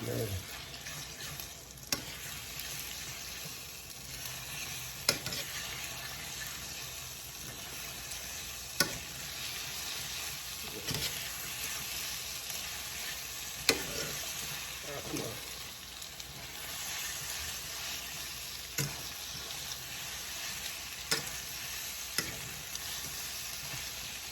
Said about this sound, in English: you can see the eggs start to scramble